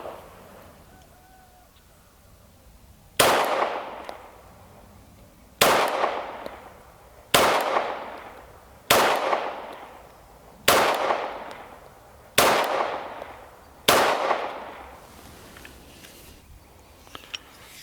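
A used pistol fires 115 grain ammunition in seven sharp, evenly spaced shots, each loud crack followed by a short decaying echo, with quiet gaps between and no talk.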